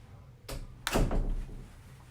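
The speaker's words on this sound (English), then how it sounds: "Hold on, I gotta shut the door." A nearby door is pushed shut, giving a soft sweep and then a solid thump with a brief rattle as it closes, heard alone over faint room noise.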